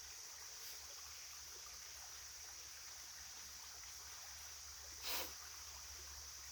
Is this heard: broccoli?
no